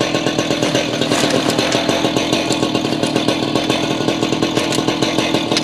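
A power saw cuts a stone veneer piece for steps, running loud and close with a continuous harsh grinding roar and a rapid pulsing rhythm throughout.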